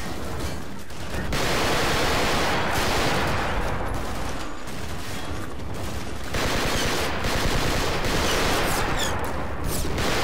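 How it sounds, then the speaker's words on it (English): Mounted in-place machine guns in a Half-Life 2 Episode 2 mod, firing sustained, loud, rapid bursts almost without pause, with no voices. "these kind of combined in place machine guns around the corner here are very, very nasty to deal with"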